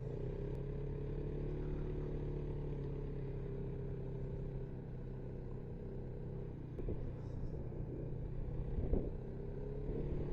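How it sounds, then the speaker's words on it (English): A vehicle cruising on pavement, heard from inside: a steady low engine drone and tire rumble throughout, with faint occasional clatters and no talk. "Some more pavement driving."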